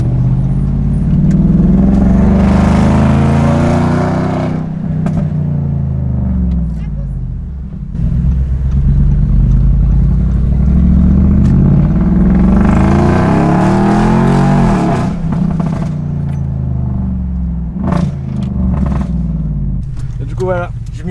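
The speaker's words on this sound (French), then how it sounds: "Je m'y attendais pas à cette accélération là pour le coup" Audi S6 C7.5 with a Stage 2 tune accelerating hard, its loud engine note climbing in two long sustained surges with a short lift between, heard from close by with voices speaking over it.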